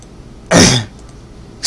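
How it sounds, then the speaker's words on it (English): A single throat clearing from someone who says they may be getting sick, a loud rough burst of about a third of a second, close by. After a quiet pause a second sound begins right at the end. "Excuse me that I keep clearing my throat."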